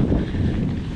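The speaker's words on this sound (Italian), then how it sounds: "il vento continua a soffiare, non smette un attimo" Wind buffeting the microphone while riding a bicycle uphill on a cold, windy day, a steady low roar and rumble that stays loud and unbroken throughout.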